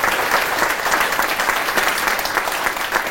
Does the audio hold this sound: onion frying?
no